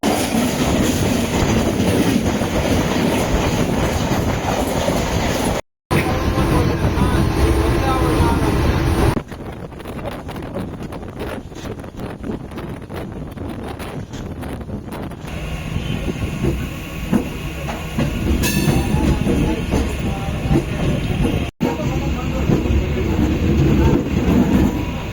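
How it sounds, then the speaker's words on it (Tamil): A MEMU commuter train runs from Chennai toward Bangalore, heard from inside as a steady loud rumble with rattling, clickety-clack wheel noise and brief dropouts, a voice talking now and then over it. "அதாவது 2வது ட்ரெயினில் இப்போ போயிட்டுருக்கோம்."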